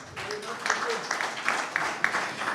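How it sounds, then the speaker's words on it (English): A logistics and customs conference audience gives a brief round of applause, moderate crowd clapping with scattered sharper claps and no voices. "I just want all of you to give a big round of applause to yourself"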